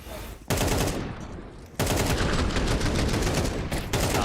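Rapid automatic gunfire in a Counter-Strike match as a player empties a full magazine, loud sustained bursts that break briefly and then resume in a long unbroken stream.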